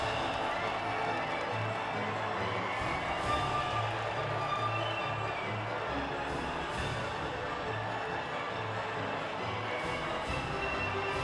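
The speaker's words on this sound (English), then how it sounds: "the reaction from the crowd must be incredibly uplifting for them." A crowd cheers continuously at the podium after the US Grand Prix in the F1 2019 racing game, a dense, steady roar with scattered shouts, loud and unbroken throughout.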